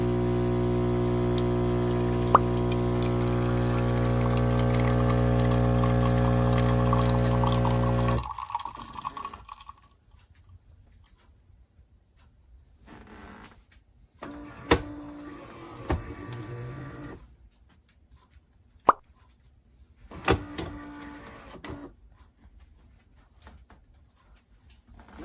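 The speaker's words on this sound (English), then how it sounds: "Now we're gonna do a couple of these to get the machine primed up and ready to go so it makes proper espresso." A Philips Series 3300 fully automatic espresso machine priming and brewing: a loud steady pump hum for about eight seconds, then quiet with sporadic clicks, drips and short mechanical bursts.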